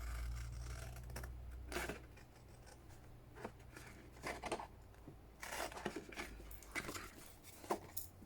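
Scissors trimming craft card paper frames, quiet close-up snips and rustling paper cuts in irregular bursts, faint and alone.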